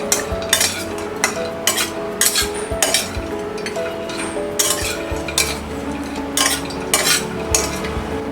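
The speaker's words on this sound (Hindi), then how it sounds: "अब हम रोस्ट करेंगे ये ड्राई कोकोनट" Dry coconut being roasted in a pan over a medium flame, a spatula scraping and clinking against the metal in quick regular strokes over a low sizzle, close and fairly loud.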